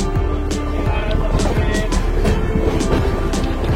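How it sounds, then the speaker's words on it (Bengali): An Amrit Bharat Express train creeps slowly along winding, curving track, giving a steady low rumble with faint rhythmic clicks from the wheels throughout. "এখন কি সুন্দর সর্পিল গতিতে এঁকে বেঁকে ট্রেনটি আস্তে আস্তে অগ্রসর হচ্ছে"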